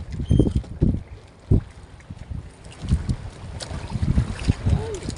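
Strong wind buffets the microphone aboard a small fishing boat at sea, with irregular low gusts and rumbles rising and falling throughout, with no talking.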